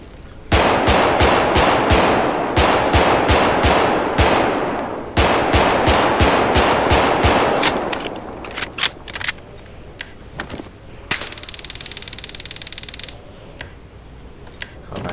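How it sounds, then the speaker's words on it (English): A FiveM video-game combat pistol from a sound pack fires a loud, rapid string of close shots, then scattered single clicks and a brief mechanical reload-like rattle. "First of all, let's go ahead and get our combat pistol out."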